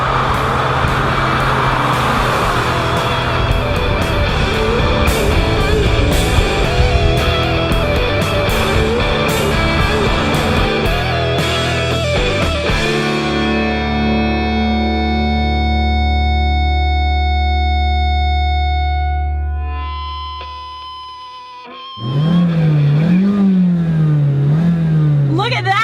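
2016 Mazda CX-3 compact AWD crossover engine revving hard toward the red line, a loud sustained rising whine and roar that holds, then drops away to near silence before a voice and rumbling resume at the end.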